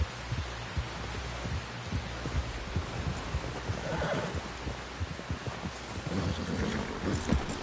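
A horse whinnies in the video game Red Dead Redemption 2, heard at a middle distance amid steady hoof clatter and a busy outdoor background, with no speech.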